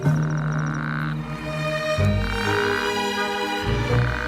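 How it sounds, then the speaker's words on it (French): Male toads croaking in chorus in a desert wadi, layered sustained calls pulsing in overlapping waves, fairly close and steady throughout with no voices. "Rapidement, une véritable chorale de crapauds se forme."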